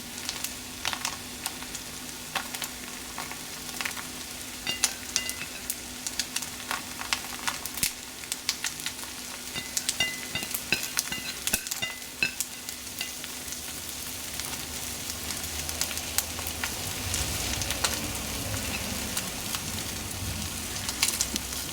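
A chilli cheese paratha sizzles and fries in a hot pan, a continuous crackling hiss with scraping and stirring noises, fairly loud and close.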